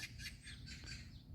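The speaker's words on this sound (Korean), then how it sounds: "새소리도 들리고" Small birds chirp and call outdoors beside a lotus pond, faint and scattered over a steady low outdoor hum.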